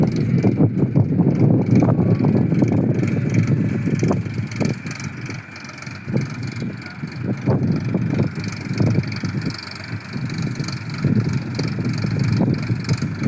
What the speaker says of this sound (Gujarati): અવાજ આવે છે ટ્રેક્ટરનો, એટલે જો સામે માલ સામાન લઈ અને ઉપર ચડી રહ્યું છે ધીમે ધીમે